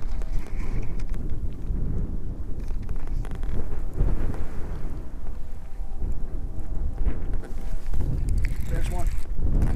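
Strong wind buffeting an outdoor microphone while fishing, a constant low rumbling roar with gusty swells throughout, close and fairly loud.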